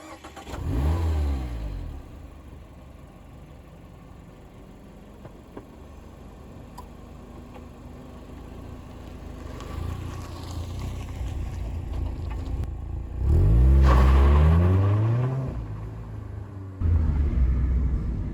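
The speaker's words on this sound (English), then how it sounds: "let's go for a drive in the 2020 Mazda MX-5 Club" A 2020 Mazda MX-5 Club roadster engine rumbles at a low idle-like drone, then revs rise in sweeping pulls around the middle and again more loudly near the end, heard from close by with no voices.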